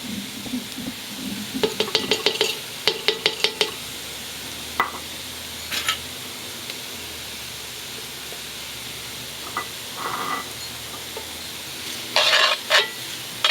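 Tomato paste from a 6-ounce can sizzles in a Dutch oven while being stirred for braised short ribs. A soft, steady fry runs under repeated sharp scrapes and clinks of the spoon against the pot, with no talking.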